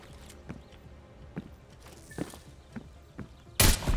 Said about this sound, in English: I hear more footsteps, Marcus.